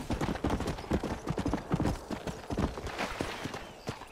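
Horse hooves clip-clop in a steady galloping rhythm while riding in the video game Red Dead Redemption, loud and continuous throughout with no talk over them.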